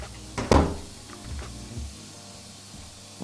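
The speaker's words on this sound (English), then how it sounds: "This door here looks fine. It opens and closes." A bathroom door in a newly renovated home is opened and closed, giving a soft knock and a single heavier thud near the start, then a quiet room with faint handling noises.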